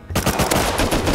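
A loud, close burst of rapid automatic gunfire in a video game, a dense rattle of shots lasting about a second.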